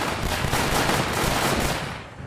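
Dense, rapid gunfire from the Northend Tower Defense video game, with loud, continuous bursts of shots overlapping for about two seconds before easing slightly at the end.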